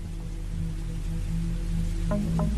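Steady rain falls at night, a constant dense hiss with a low rumble underneath and a couple of faint knocks near the end.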